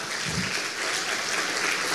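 Church congregation applauding during a Portuguese-language sermon, a steady wash of clapping that holds evenly through the whole short stretch at moderate loudness.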